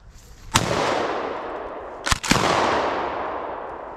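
Two loud gunshots from a squirrel hunt in woodland, one sharp report followed about a second and a half later by a close double shot, each trailing off in a long echoing rumble.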